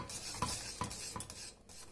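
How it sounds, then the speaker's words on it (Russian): A spoon scrapes and stirs through thick custard cream with melting butter in a pot, a few rhythmic strokes with soft clinks against the rim, close and quiet. "Все это перемешиваю."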